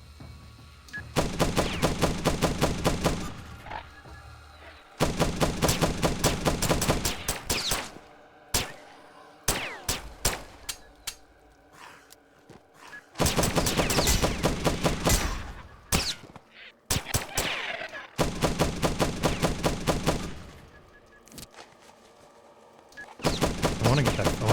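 Automatic gunfire in The Last Stand: Aftermath at skeleton enemies, with long sustained bursts broken by short single shots and pauses, loud and close throughout.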